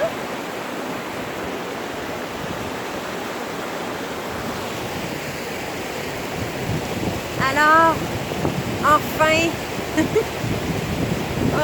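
Water rushing at a riverbank with steady wind noise buffeting the microphone, a constant wash of sound throughout, joined near the end by someone speaking briefly and some nearby clatter.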